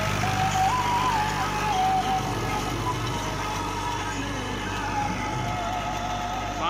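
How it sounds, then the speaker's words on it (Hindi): A 55 HP NH tractor engine working a rotavator runs steadily with a deep, constant rumble, loud and close, droning on without a break. "ट्रैक्टर के बोकण की आवाज सुनो"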